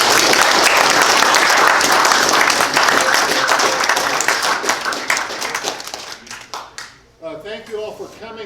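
An audience at a garage fire prevention presentation applauds first responders and fire professionals: loud, dense clapping that carries steadily, then thins and fades as a voice begins speaking at the end.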